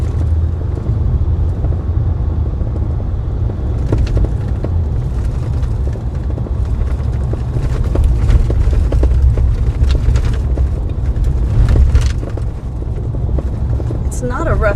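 Truck driving over a bumpy road with a child seat inside, a constant loud low rumble of tyres and cab with light rattles and knocks on top, while a person talks throughout.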